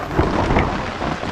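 Heavy rain pours steadily with a low rumble of thunder rolling beneath it, loud and close, no talking over the downpour.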